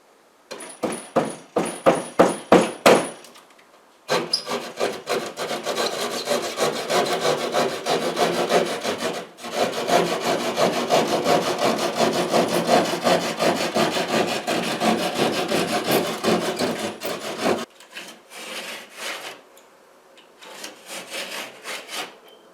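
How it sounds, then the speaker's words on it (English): A hand drywall saw cuts through drywall around wall studs with loud rasping strokes, first a quick run of short back-and-forth pulls, then long continuous sawing broken by brief pauses, ending in a few lighter strokes. "I'm going to use a drywall saw for the area around the studs, and I'll use a razor knife to cut over the studs"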